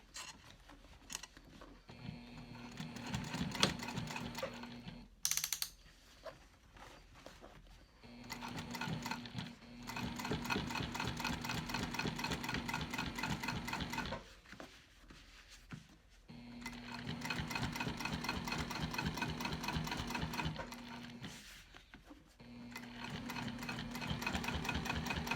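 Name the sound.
sewing machine stitching leather for a backpack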